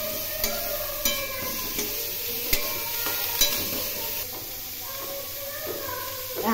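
Boiled young jackfruit frying in a pan for a Bengali curry, giving a steady soft sizzle under regular spatula taps and scrapes, close by with a faint voice in the background.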